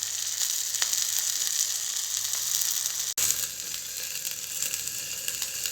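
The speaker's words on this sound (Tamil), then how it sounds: "ஃபிஷ் வந்து நல்லா ஃப்ரை ஆகிறதுக்கு மேலே ஒரு லிட்டு வச்சு க்ளோஸ் பண்ணிக்கலாம்." Vanjaram fish frying in oil in a pan with a lid on, giving a steady close sizzle and hiss throughout, with one brief dropout partway.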